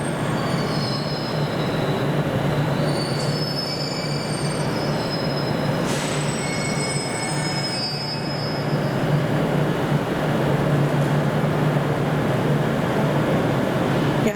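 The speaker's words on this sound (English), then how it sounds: "we got a Class 385 coming in, and it's terminating in and will form a service back towards the capital," A Class 385 electric train pulls into Glasgow Central station, its rumbling wheels and rail noise holding steady while high-pitched squeals of wheels and brakes ring out at a moderate distance.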